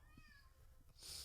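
A house cat gives a faint, drawn-out meow indoors, followed by a brief burst of higher-pitched noise; no one talks over it.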